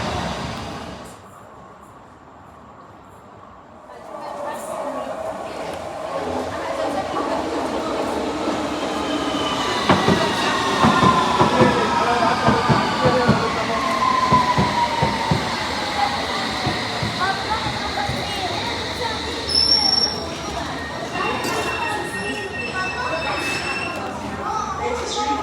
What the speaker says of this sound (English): Here is this Circle Line S-Dock train leaving Wood Lane, heading towards Hammersmith